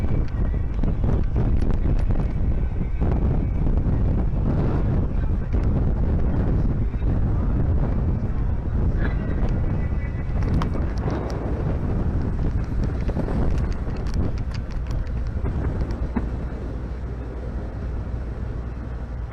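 Steady, loud wind buffets the microphone aboard a paddle boat on Lake Mead, with continuous low rumbling gusts throughout and no clear talk.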